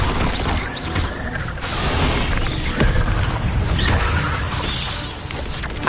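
A Levioso levitation spell from Hogwarts Legacy makes a sustained magical swell: whooshing, shimmering effects over a low boom, with creaks and brittle, crashing accents layered over several seconds and no speech.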